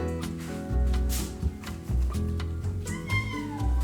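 A cat meows several times in a row, drawn-out, pitched cries close by, with a faint voice in the background.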